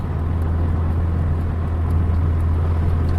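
A Volkswagen Golf, fitted with a Pierburg 2E carburettor, cruises steadily on an open road at around 110 km/h, with a constant low engine drone and road rumble filling the cabin and no talk.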